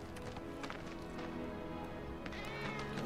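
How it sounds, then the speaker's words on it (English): A cat meows in the video game Final Fantasy VII Remake, a few short calls over steady game background sound and music, fairly faint in the mix. "I just want to say hi to the cat, okay?"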